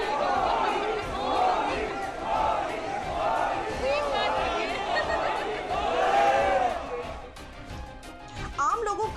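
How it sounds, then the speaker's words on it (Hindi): A dense crowd outside a hotel in Namibia cheers and chants rhythmically for PM Modi's arrival. The roaring, pulsing calls are loud and close, then thin out into scattered shouts. "जब पीएम मोदी होटल पहुंचे तो वहां जो भीड़ थी वो आप देखिए भी और उनको सुनिए भी"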